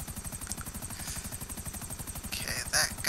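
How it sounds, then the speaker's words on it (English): Helicopter in the GTA 5 Online video game, a loud, steady, rapid rotor thump throughout with engine whine, close by, with brief other game noises near the end. "Oh, I gotta take out the helicopters."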